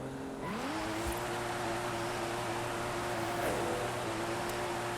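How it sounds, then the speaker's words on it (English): A car doing a burnout on HRE wheels in the Forza Horizon 5 racing game: a steady engine roar holds under constant broadband tyre squeal and hiss. The pitch climbs early and shifts once midway. No one speaks. "let's give this a burnout. Let's burn these really nice tires on the HREs"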